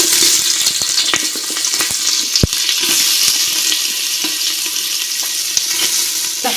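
Onions sizzle loudly in hot oil that already holds bay leaf, cinnamon, cardamom and cloves, cooking for gobi palav. A steady dense frying hiss is broken by scattered crackles and pops, close up, with no talking.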